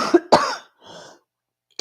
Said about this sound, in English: I'm sorry for coughing in your ears.